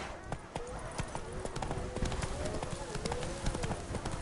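Roach, the horse in The Witcher video game, trotting with rhythmic clip-clop hoofbeats, close and steady, while a voice speaks over the footsteps.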